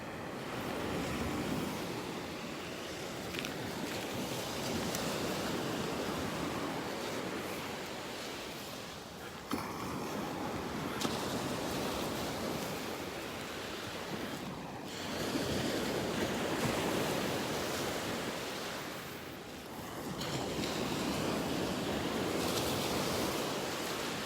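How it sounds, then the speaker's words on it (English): Small waves break and wash up on a beach in North Naples, Florida on a morning shoreline, a steady surf hiss rising and falling in slow surges, with some wind rumble on the microphone and no voices. "Loving the sounds of these little waves out here this morning."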